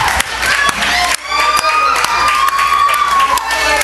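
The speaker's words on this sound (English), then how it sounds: "you go ahead and you cheer for Major Morpheus Morency." A live crowd at a 12th anniversary wrestling show cheers and shouts loudly and steadily, with whistles and raised voices filling the hall.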